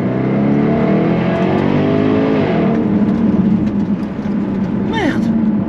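A Jaguar F-Type SVR engine revs hard and loud up close, rising and falling through several throttle blips with a brief sharp climb near the end, while someone talks over it.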